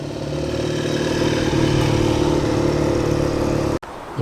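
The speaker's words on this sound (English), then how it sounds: "Beautiful Triumph motorcycle." A classic Triumph motorcycle rolls past at a vintage vehicle meet in a hall driveway, its mid-pitched engine humming steadily and fairly close, then cutting off abruptly near the end.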